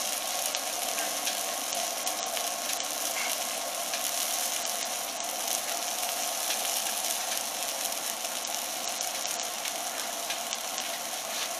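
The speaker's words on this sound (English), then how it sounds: "Let's smash that burger down." A smash butter burger sizzles on a hot griddle with a steady, loud crackling hiss. The sizzle runs unbroken and close up, with no voices.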